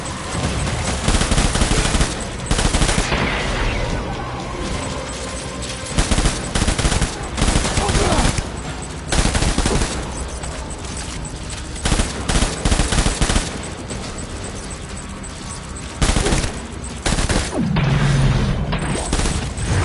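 Rapid gunfire bursts from the video game Death Stranding, loud and sustained across the clip, with machine-gun rattles and heavy booms layered over a dense battle backdrop.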